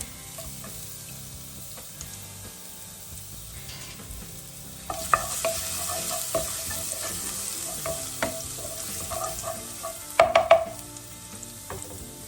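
Garlic fries in olive oil for an Italian pizza margherita sauce, a quiet sizzle that grows livelier partway through, with stirring clinks and scrapes, no talking.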